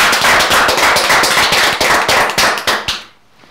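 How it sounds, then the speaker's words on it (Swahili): An audience at a game show claps together, a dense burst of rapid, sharp hand claps close and loud, tapering into a few last claps before stopping abruptly. "Haya, makofi tena."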